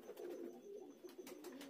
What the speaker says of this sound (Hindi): एकदम टॉप क्वालिटी के कबूतर हैं भाई, जोड़े वाले कबूतर हैं।